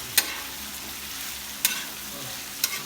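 Celery stalks and beans being stirred in a hot pan, with a steady low sizzle and three sharp utensil scrapes against the pan spaced about a second and a half apart, close and without voices.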